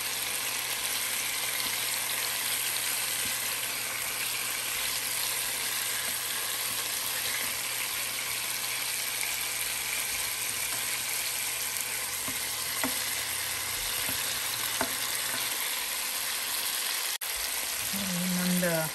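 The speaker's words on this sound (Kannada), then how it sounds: "ಇನ್ನೊಂದು 6-7 ನಿಮಿಷ ಇನ್ನೊಂದು ಸೈಡ್ ಫ್ರೈ ಆಗಲಿ" Chicken pieces fry in a pan for cherry chicken rice, a steady, continuous sizzle and crackle of hot oil throughout, with a faint clink near the end.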